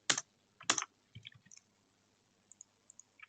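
Keys clack on a computer keyboard in a few scattered bursts, two louder clusters of presses followed by lighter, sparse taps, close and clear in a quiet room while prototyping a Unity game.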